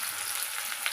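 Finely chopped onion sizzles steadily in hot oil in a pan, a loud, close, continuous frying hiss.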